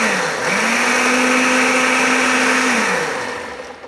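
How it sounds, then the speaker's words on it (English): A Ninja blender whirs through a strawberry protein smoothie, motor spinning up sharply, holding a steady high whine for a couple of seconds, then winding down; loud and close with no talk. "Yeah, we use our Ninja, but you could use whatever blender."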